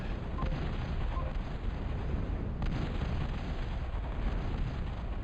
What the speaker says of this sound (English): All it's doing is blowing things up at his base.